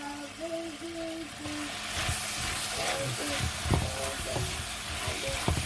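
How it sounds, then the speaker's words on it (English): Prawns stir-fry in hot oil for a quick rice noodle dish with oyster mushrooms, giving a continuous close sizzle broken by sharp clacks of stirring, while a voice talks softly at the start. "Because it's a quick stir fry, I've got oil here and I'm ready to do my prawns"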